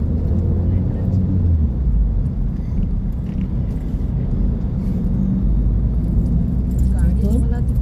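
Steady low engine rumble and road noise from a car driving through the Konkan countryside near a poultry farm. People talk inside throughout.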